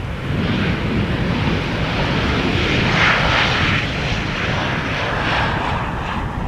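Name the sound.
Transavia passenger airplane landing at Amsterdam Schiphol Airport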